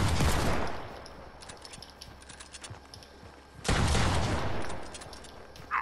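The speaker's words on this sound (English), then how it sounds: "I have a shotgun." Shotgun blasts in Fortnite, two loud sharp bursts with a lull of smaller clicks and clatter between them.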